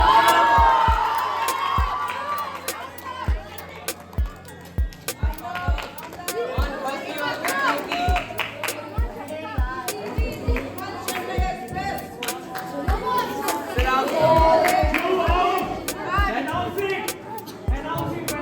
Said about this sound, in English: Cheer him up, guys!